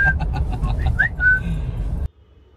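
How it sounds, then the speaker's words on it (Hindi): A man whistles with his mouth, a short series of bright, chirpy, bird-like notes up close over background traffic noise, ending abruptly. "फिर भाई ने सीटी मार दी"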